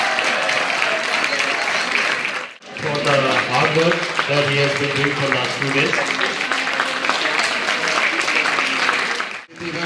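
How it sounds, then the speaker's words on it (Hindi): An audience of schoolchildren and guests at a public awareness programme at a Kendriya Vidyalaya school in Shimla applauds loudly and steadily, with someone speaking over the clapping throughout. "जोरदार तालियां।"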